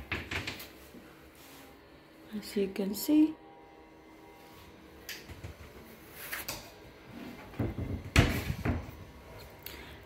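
Two-door closet in a small studio apartment: the doors slide and knock shut a few times, with soft thuds and rattles scattered among a person talking nearby.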